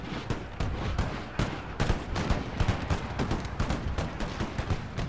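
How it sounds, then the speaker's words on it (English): Dense volleys of musket fire mixed with heavier mortar blasts in the Empire Total War battle game, a continuous crackling barrage of overlapping shots with occasional louder booms. "I'm gonna have to stop you from shooting here."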